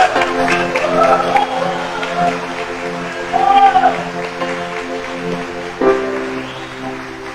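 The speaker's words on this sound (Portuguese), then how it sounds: "Vamos aplaudir esta oração poderosa. Aplaude com força." A church congregation applauds the rosary prayer with a steady, dense wash of clapping like rain, continuing under held musical tones and voices.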